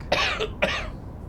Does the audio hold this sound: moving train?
no